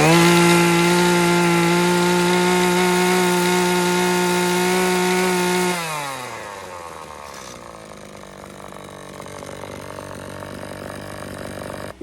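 A Husqvarna 525DEPS chainsaw with a newly replaced carburetor runs at high revs with a loud, steady whine for about six seconds, then drops off to a rougher, lower idle.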